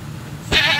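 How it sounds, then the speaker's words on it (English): A goat in the Minecraft video game gives one short, loud bleat that arrives suddenly after a brief quiet lead-in. "Goat."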